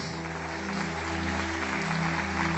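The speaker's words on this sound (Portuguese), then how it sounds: "Eu queria aplaudir o Senhor por isso." A church congregation applauds together after a baptism service with 23 people, a dense, steady wash of clapping heard from a distance at low volume, with no voices.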